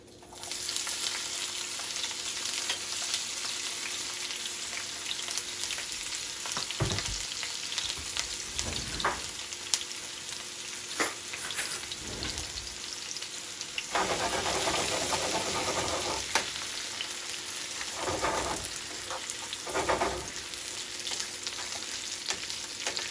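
Vegetables dropped into hot oil in a pot for a Jamaican bully beef and rice meal sizzle steadily and loudly, with occasional stirring scrapes and bursts of spatter breaking through the continuous hiss.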